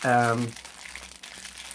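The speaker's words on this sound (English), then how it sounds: "let me just get this out of the plastic bag" Crinkly rustle of a plastic bag being handled as an item is pulled out, soft continuous crackling that follows a person talking briefly at the start.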